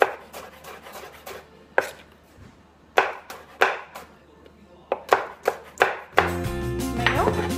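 A knife chops onion and vegetables for shrimp ceviche on a cutting board, a series of close, sharp chops at an uneven pace, turning into a louder, busier clatter near the end.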